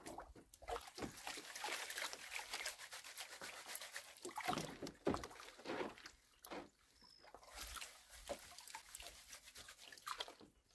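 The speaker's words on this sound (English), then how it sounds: "Pan it down pretty quick." A gold pan swirled with water while panning down drywash concentrate on a new claim: irregular sloshing, dripping and gritty rubbing, moderately close and fairly quiet, with no talking.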